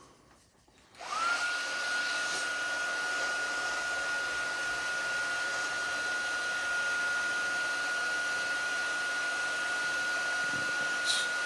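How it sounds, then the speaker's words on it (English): A heat gun used for heat embossing switches on with a click and then blows a steady, even whooshing hiss with a faint high whine, continuous and close. "what I'm going to go ahead and do is take my heat gun"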